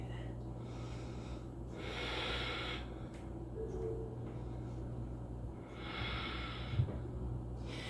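Slow, audible breaths drawn in and pushed out during a seated yoga twist in a home vinyasa practice, close and steady with a couple of long exhalations over quiet room hum.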